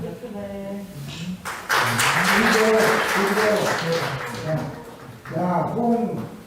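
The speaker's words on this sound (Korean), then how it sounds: "네, 우리 큰 박수로 축하드리겠습니다." A church congregation applauds award winners during a Sunday morning service, a burst of broadband clapping that rises midway and runs under someone speaking over it, then thins as he carries on.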